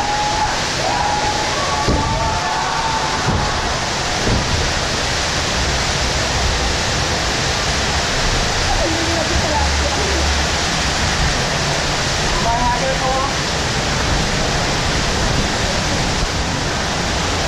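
Steady rushing, splashing water fills the whole stretch on the Splash Mountain flume ride at Disney World, loud and continuous, with faint voices occasionally under it.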